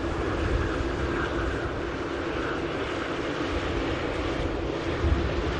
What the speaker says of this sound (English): As the 380, as I say, makes its way over to 223 left for departure back to Dubai.